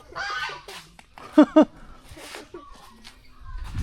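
Ducks at a rural village home in Isan, near Phibun Mangsahan in Ubon Ratchathani, give two short, loud, close quacks in quick succession between stretches of someone talking.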